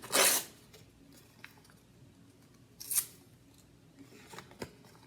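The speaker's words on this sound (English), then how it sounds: "you could be using scissors to tear up or cut up your painting or drawing that you did" Scissors cut up a painting or drawing on paper, giving two crisp, close snips about three seconds apart with faint paper rustling and small clicks in between.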